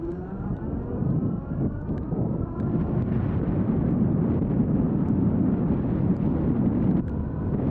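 A Birch Grolar e-bike accelerates from rest to top speed without pedaling, heard as a rising low rumble of wind and tyre noise that builds and holds steady, with no talk.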